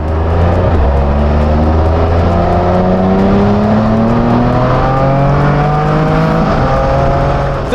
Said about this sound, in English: in the higher RPM range, you could really hear the amazing intake sound intensify thanks to the additional airflow from the new